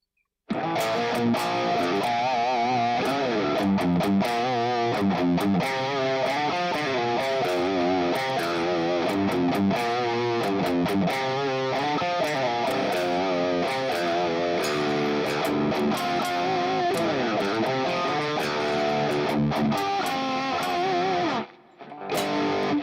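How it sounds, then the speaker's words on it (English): Electric guitar played with heavy distortion through a Line 6 Helix, a thick, saturated tone strumming continuously and loudly before cutting off near the end. "Way too much distortion for that song."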